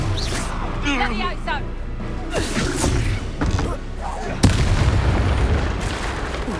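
Spell combat in Hogwarts Legacy with the Confringo fire spell: loud booming blasts and sharp pops pile up with swooshing magic effects, a heavy burst near the end, while a voice talks over the fight.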